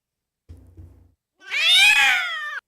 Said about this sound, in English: Yeah, watch your ears. The cat will leap across the screen.